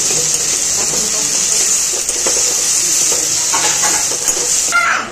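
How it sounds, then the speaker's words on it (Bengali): Onions sizzle and crackle steadily in a hot pan, a continuous frying hiss with occasional stirring scrapes, close and fairly loud. "পেঁয়াজ ভাজার মধ্যে দিয়ে দেবো নুন, যাতে পেঁয়াজটা তাড়াতাড়ি ভাজা হয়ে যায়"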